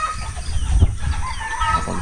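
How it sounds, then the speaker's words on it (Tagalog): Rooster crowing with hens clucking in a rural field on Burias Island, the calls fairly close and steady over a low outdoor background. "Dito mga huni na lang ng ibon"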